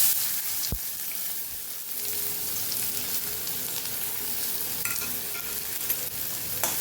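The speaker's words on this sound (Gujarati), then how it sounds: "ડુંગળીને આપણે સાતળી લેવાની છે।" Onions sauté in a pan with mustard seeds and a pinch of asafoetida alongside lightly fried lentils, giving a steady close sizzle with a sharp stir or tap near the start and occasional small scrapes.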